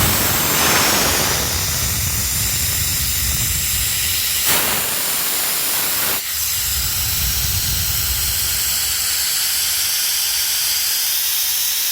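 Compressed air blasts out of a California Air Tools ultra-quiet compressor tank through a wide-open ball valve, a loud steady roaring hiss lasting throughout, close to the listener with no voices.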